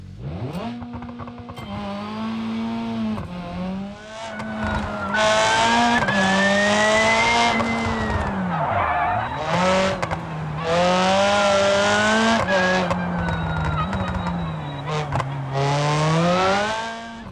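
A Nissan 240 with racing specs in BeamNG.drive, its engine revving up and down through gear changes, with tires squealing in corners. The sound is loud and close throughout.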